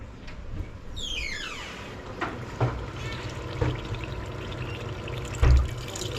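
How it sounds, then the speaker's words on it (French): Water is poured into a dough mixture for homemade meatballs, a steady trickling and splashing with a few dull knocks and handling sounds alongside it. "Allez, mets l'eau maintenant."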